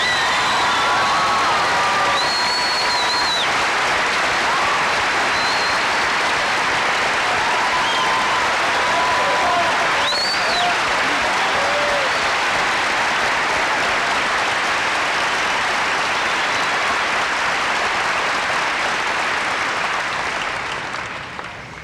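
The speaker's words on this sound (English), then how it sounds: "one last chance to applaud a master teacher and a wonderful person, Peter Powlison." Sustained applause from a commencement ceremony audience in 1981, steady dense clapping with occasional whistles and cheers, loud and continuous throughout before tapering slightly at the end.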